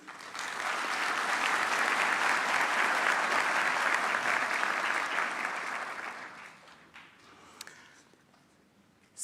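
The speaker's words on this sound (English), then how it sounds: "Give yourself a round of applause." Graduates at a university commencement ceremony applaud themselves in a broad, dense burst of clapping that holds for around six seconds, then thins to scattered claps and room noise.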